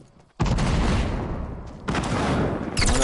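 Semi-automatic gunfire rings out in a video game as loud, dense volleys of shots in two sustained bursts separated by a short lull, with no talking.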